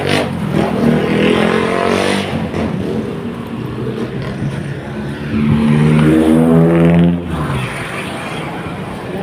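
Jeepney engine on a road in Zamboanga, loud and steady, with the pitch rising and falling as it accelerates and revs over several seconds, and voices talking at times.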